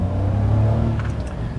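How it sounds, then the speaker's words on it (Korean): A Hyundai Casper turbo accelerates on level ground, its engine note rising to a steady, droning rev from inside the cabin as the transmission downshifts. "지금 이런 평지에서도 가속을 하려고 하면 악셀을 밟았다 하면 일단 기어 단수가 내려가는데"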